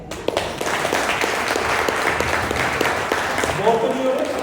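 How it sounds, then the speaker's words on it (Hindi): Seminar audience in Vasco, Goa breaking into steady applause, a dense wash of many hands clapping throughout, with a voice briefly rising over the crowd near the end. "तालियां।"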